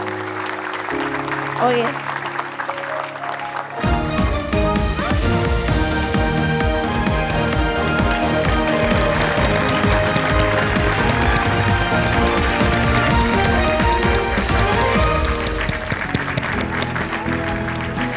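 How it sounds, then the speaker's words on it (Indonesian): An awards ceremony crowd claps in a broad, sustained wave over loud backing music, with a voice briefly speaking near the start before the applause swells and holds. "Boleh tepuk tangan semuanya."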